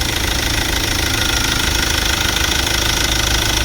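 An electric generator running after excitation is applied, a loud, close, continuous knocking engine clatter and mechanical rattle that holds steady throughout.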